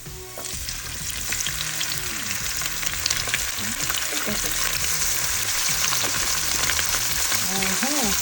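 Ham frying in a pan with garlic gives a loud, steady, crackling sizzle that runs the whole time, with scattered pops and a voice talking intermittently underneath.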